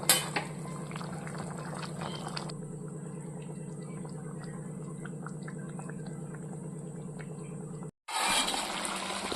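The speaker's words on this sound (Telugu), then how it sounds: "ఇదైతే ఉడుకుతుందండి, అయిపోవచ్చింది." Chicken gravy curry simmers in a pan over a medium flame, giving a steady bubbling and sizzling that runs continuously, with a faint metallic clink and a brief cutoff near the end.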